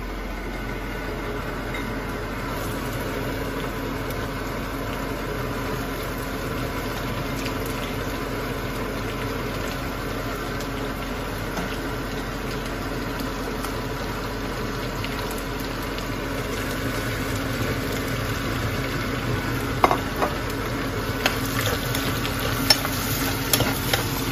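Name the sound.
onions added to a pan and frying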